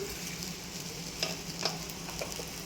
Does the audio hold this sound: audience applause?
no